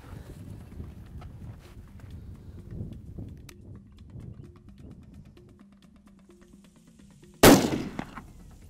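A single loud, close rifle shot fired at a golden oryx about 140 yards away on safari rings out alone after several seconds of quiet outdoor ambience and faint movement, followed by a short fading echo.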